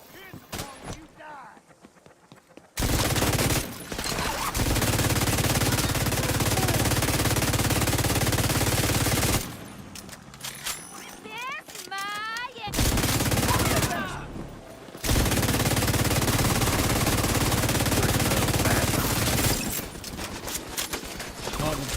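Hostile turrets fire sustained automatic bursts in The Division 2 during the Battle for Brooklyn DLC, loud continuous rattling in long stretches broken by short pauses, with game voice lines and someone talking in between.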